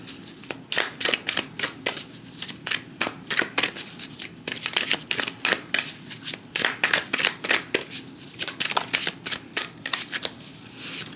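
A deck of oracle cards is shuffled by hand in quick riffling bursts, a dense run of crisp flicks and slaps close to the microphone.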